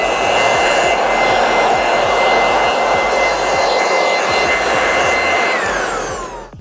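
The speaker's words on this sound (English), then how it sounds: "Kind of like this wind blower." A wind blower roars steadily and loudly at close range, a constant rushing whoosh that holds for several seconds and then starts to wind down at the end.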